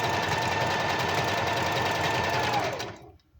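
A sewing machine stitches fast and steady at close range with a buzzing motor hum, then slows and stops near the end, leaving quiet.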